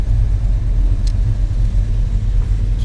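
A 1936 Ford Deluxe Tudor slantback street rod idles just after a cold start, its engine a steady, loud, low rumble with an even pulse, close by and with no talking.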